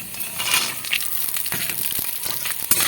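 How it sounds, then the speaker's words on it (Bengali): Raw peanuts frying in a pan give a steady crackling sizzle, with scattered light clinks and stirring scrapes against the metal, close and moderately loud, no voices. "বাদামটা খুব ভেজে নেব"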